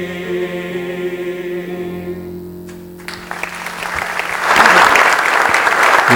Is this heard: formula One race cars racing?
no